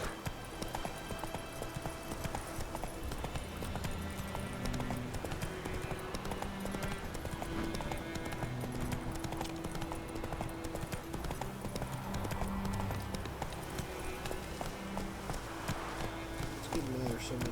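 Roach, Geralt's horse in The Witcher 3, pounds along with continuous, steady hoofbeats clip-clopping for the whole stretch over a dense game soundscape.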